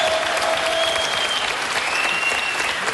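Studio audience applause on a French television show for a singer bound for Eurovision, a full, steady burst of clapping from a crowd with a faint tone running underneath.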